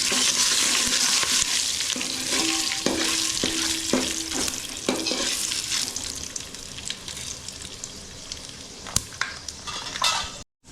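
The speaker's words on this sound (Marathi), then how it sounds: "कढीपत्ता आणि तेजपत्ता आणि त्याच्यामध्ये आपलं सर्व टाकलं याने मिठ्याने फोडणीला ढवळून घेतो" Curry leaves and bay leaves sizzle in hot oil while being stirred, a steady frying hiss broken by sharp scrapes and clinks of the spoon against the pan, loud and close, fading near the end.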